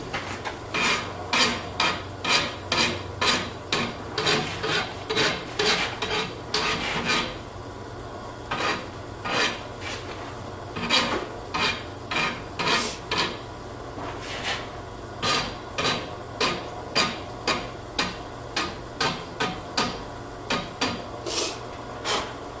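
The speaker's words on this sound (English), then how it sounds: "this rasp is a fairly new rasp. So it cuts really good." A fairly new metal rasp files hot, freshly forged steel in a steady run of sharp, scraping strokes, each a bright rasping burst with short gaps, close and loud with no talk.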